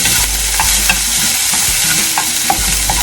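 Garlic and pork stir-frying in a hot pan for a Chinese-style pork and bell pepper dish, a loud steady sizzle with scattered scraping stirs of the spatula throughout, close and without talk.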